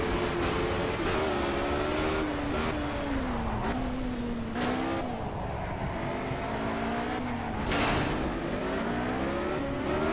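Engine of a racing car in the Project Cars video game, revving up and down through repeated gear shifts with a wavering pitch, loud and continuous, with brief bursts of tire noise and no talking.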